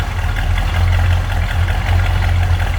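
A 1970 Oldsmobile 442 with its 455 V8 idles steadily, a loud, close, deep rumble with a low lumpy pulse that holds even throughout, without talk.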